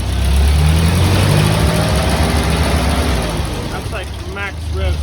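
Ford 8N tractor engine, its throttle oversensitive and in need of adjusting, running at high revs with a steady loud drone and a slight dip before rising again; a voice talks briefly near the end.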